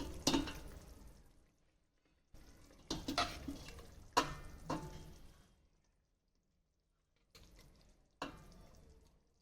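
Dal being added and stirred into a masala in a pan, with several separate bursts of scraping and sizzling broken by silent gaps, close and fairly quiet.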